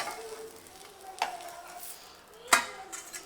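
A dosa sizzling in oil on a hot pan in a home kitchen, a steady soft fry with two sharper clanks of utensil against the pan.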